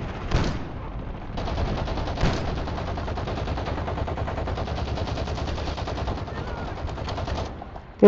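Gunfire rings out in the Warzone video game, opening with a couple of sharp loud shots and then a long stretch of dense, rapid firing at steady volume. There is no clear speech over it.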